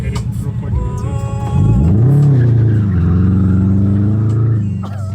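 A 2023 VB Subaru WRX with a PLM exhaust accelerates at low speed in second gear, its engine note rising loud and close into a sustained drone, then easing off.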